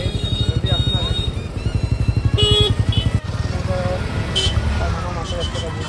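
Motorcycle and car engines rumble and drone close by on a busy road near a crowded beach at Uran, with a horn toot and revving passing vehicles, and people talk over the traffic.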